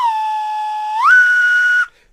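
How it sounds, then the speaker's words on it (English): A single sustained whistle blast, held steady then stepping up sharply in pitch before cutting off, loud and close with no other sound. "We'll give you the whistle."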